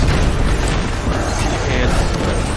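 A grenade exploding in the game Destiny 2, a dense loud booming roar that fills the whole moment without a break.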